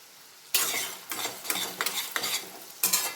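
Thinly sliced onions drop into hot oil, setting off a sudden loud sizzle, then frying continues with uneven bursts of spatula stirring against the pan, close and alone.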